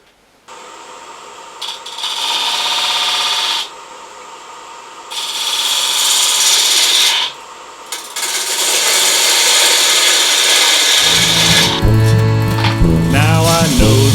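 Three-footed wooden bowl turning on a lathe, with a tool scraping the spinning wood in loud, hissing bursts broken by short pauses, then a steadier rough scrape as the turning continues near and close.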